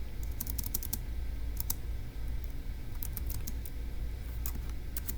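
Steady keyboard typing with bursts of clicks over a low room hum, keys tapped in quick clusters throughout, close and moderately loud.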